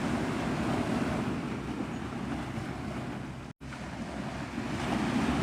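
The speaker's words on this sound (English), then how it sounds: "You guys can still hear the water." Ocean surf at Navarre Beach, Florida, a steady broadband wash of waves rolling in continuously at moderate distance, with a brief dropout near the end, no voices.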